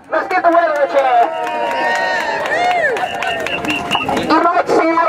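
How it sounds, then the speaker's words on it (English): Crowd at a housing-bill protest march cheering and whooping loudly, a dense sustained roar of many voices with shouts and whistles rising above it throughout. "Let's give the weather a cheer."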